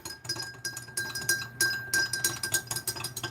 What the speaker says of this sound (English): We're going to stir that up.